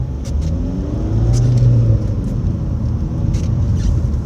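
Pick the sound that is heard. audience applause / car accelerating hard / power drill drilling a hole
car accelerating hard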